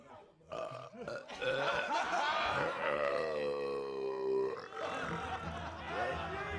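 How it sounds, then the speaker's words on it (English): A long, loud, drawn-out burp rumbles low and resonant for several seconds, close to the microphone, with no other sounds around it. "Burping is okay."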